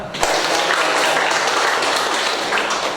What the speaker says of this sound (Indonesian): Ini Juan, beri tepuk tangan dulu lah.